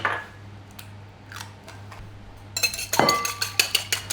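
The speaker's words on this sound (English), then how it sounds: "I've got 2 eggs that I've got to beat." Two eggs being beaten in a bowl with a whisk, starting about midway as a run of rapid, bright clinking taps of metal wires against the bowl, close and fairly loud, after quieter scattered clicks and kitchen handling.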